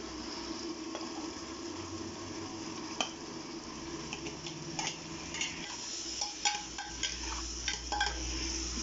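Tomatoes frying with browned onions in a pan for Kashmiri-style mutton korma, a quiet sizzle punctuated by light spoon clinks and scrapes that grow more frequent toward the end.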